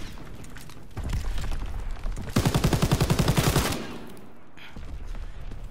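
An MG42 machine gun in the World War II shooter Call of Duty WWII fires one loud, extremely rapid burst lasting over a second, with scattered game noise before and after.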